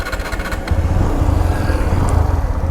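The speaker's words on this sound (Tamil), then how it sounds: "அவ்வளோதாங்க, வண்டி ஸ்டார்ட் பண்ணியாச்சு." The engine of a TVS Apache RTR 180 motorcycle runs at a loud, close idle, a steady pulsing putter that settles after a brief higher rattle at the start.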